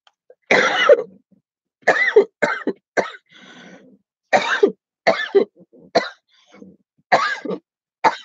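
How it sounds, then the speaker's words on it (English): A run of harsh, close coughs in irregular bursts, some in quick pairs, with short silences between and no talking. "This has been a terrible coughing day for me."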